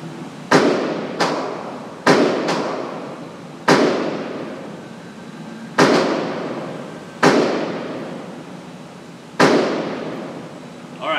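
Gunshots fire at a target on a shooting range, about ten sharp reports at irregular intervals. Some come in quick pairs and each one rings out with a decaying echo. The shots are loud and close, with no talk over them.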